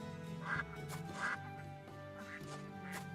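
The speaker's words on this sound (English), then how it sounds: "Hey, we got a duckling." Several ducks quack in bursts, with a duckling among regular and white ducks, calling close by and fairly loud in a steady back-and-forth over a low background hum.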